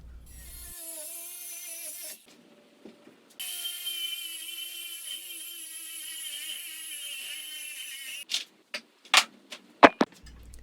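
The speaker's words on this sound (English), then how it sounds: "then I use my angle grinder to cut these different pieces to length" An angle grinder cuts threaded steel rod to length, a loud steady high whine running in two long bursts with a brief pause between, ending in several sharp clanks and knocks.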